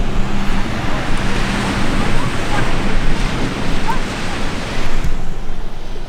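Ocean waves breaking on a winter beach at Cape Henlopen, a loud, continuous roar of surf mixed with wind buffeting the microphone.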